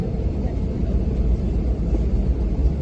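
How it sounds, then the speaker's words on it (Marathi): Airliner taxiing toward the runway on an Imphal to Delhi flight, heard from inside the cabin at night: a steady, loud low engine rumble and hum fills the whole stretch with no break. "रनवेकडे चालला. अजून टेक ऑफ केला नाही."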